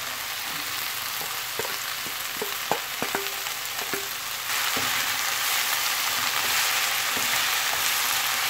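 Spinach and tomato being stirred as they fry in a pan, a steady soft sizzle with a few clicks of a spoon against the pan, growing slightly louder partway through, with no talking.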